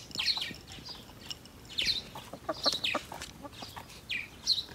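Several chickens cluck and squawk softly in repeated short calls, fairly faint, with a little background rustle.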